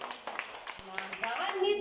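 Children clapping their hands together in a group, a quick run of light claps under a children's chanted rhyme.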